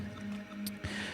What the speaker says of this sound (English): this is the Ease episode 4 effects only